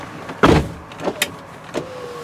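The door of a 2005 GMC Sierra 1500 Z71 pickup thuds shut once, loud and close, followed by a few softer clicks and rattles from inside the cab.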